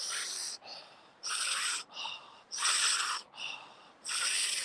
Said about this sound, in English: Keep breathing through it.